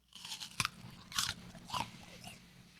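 A crisp Ambrosia or Gala apple is bitten and chewed close to the ear, with sharp crunching snaps followed by wetter, juicy chewing bursts in an uneven rhythm and no talking.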